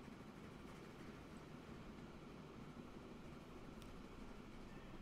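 A train rolls into a station in Transport Fever 2, heard as a steady, dense low rumble of rail noise that stays even throughout, faint overall with no voices.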